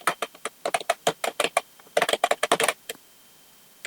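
Rapid, steady tapping on a computer keyboard while entering text in Microsoft Access, a close run of crisp keystrokes that stops near the end.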